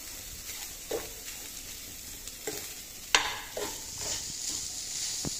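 Lemon rice made from leftover rice is stirred in a pan, a spoon scraping and tossing the grains in several irregular strokes over a soft, continuous sizzle, close and fairly quiet.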